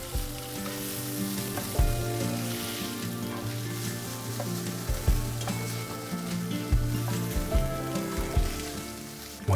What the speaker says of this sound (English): Heat up the pan back to medium heat and add in the crumbled tofu.